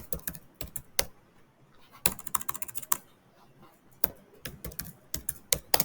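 A git command is typed on a computer keyboard in close, crisp clusters of keystrokes separated by short pauses, uneven in rhythm and without speech.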